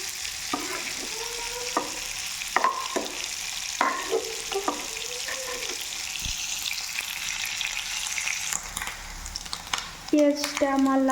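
Chopped chili and onion sizzle steadily in a hot pan in a home kitchen, with intermittent stirring clinks and scrapes over the continuous frying hiss and a few brief voices in the background.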